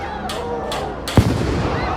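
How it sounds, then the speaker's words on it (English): Fireworks going off at a protest encampment, several sharp bursts and cracks in quick succession with a heavy low thump, loud and close, over a noisy crowd with people shouting. "the first firework went off"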